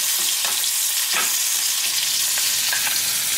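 Fish frying in butter in a pan while being basted with a spoon, a loud, dense, continuous sizzle with faint spoon scrapes throughout.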